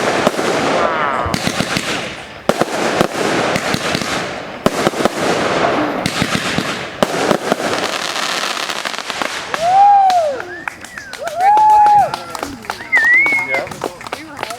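Fireworks for the 150th Canada Day celebration in 2017, near Windsor, crackling and booming in dense bursts, followed by whistling rockets and scattered pops, with crowd voices in the background.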